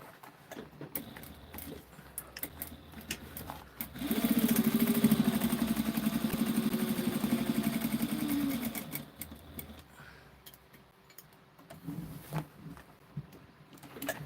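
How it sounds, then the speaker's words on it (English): A sewing machine stitches a second row in one steady, loud run of about five seconds, bracketed by quieter handling clicks and rustles before and after. "I'm going to do a second row of stitching"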